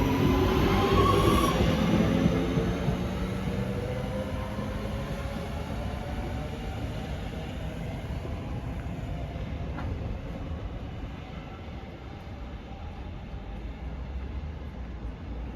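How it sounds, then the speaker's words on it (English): A Northern passenger train on the Crewe to Manchester Piccadilly service pulls away, its rumble loudest at the start and easing to a steady, fading roll with faint wheel squeal, and no talk. "Departing out now is the 1416 Northern service from Crewe to Manchester Piccadilly."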